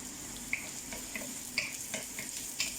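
Garlic and onion sauté in a pan, giving a steady sizzle with repeated scraping strokes as a utensil stirs, close and moderately loud with no talking.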